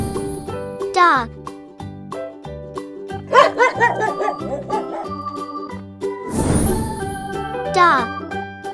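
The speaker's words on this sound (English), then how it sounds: "Dog." Dog barks sound in short bursts over a tinkling, jingly musical backing, with a voice speaking between them in a children's learning piece.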